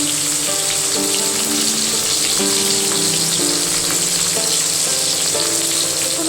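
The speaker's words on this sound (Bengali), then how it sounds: "আমি ইলিশ মাছটা কুমড়ো পাতা দিয়ে বের করেছিলাম, গ্যাস কমিয়ে একটা একটা করে ভেজে নেব" Hilsa fish pieces, wrapped in pumpkin leaves, fry one by one in hot oil over a lowered gas flame, giving a steady, loud sizzle throughout with faint clinks of stirring and no talking.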